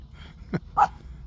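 A female dog beside someone in a home patio at sunset gives a short yelp, then a louder whimpering bark a moment later, close by over a quiet background.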